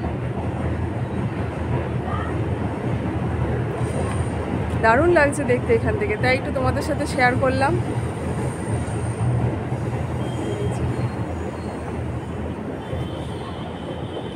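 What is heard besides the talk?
metro train passing, heard from a rooftop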